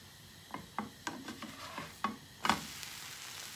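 A free-from enchilada wrap cooking on its second side in a pan, with a soft sizzle and a run of close scraping and tapping sounds from turning and pressing, one louder scrape near the end.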